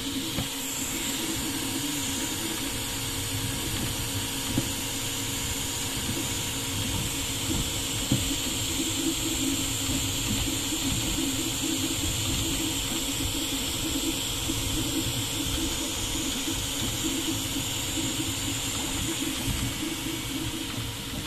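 An AnkerMake M5C FDM 3D printer runs with steady mechanical whirring, a constant fan hiss and faint motor tones, continuously at a close, even level with no talking.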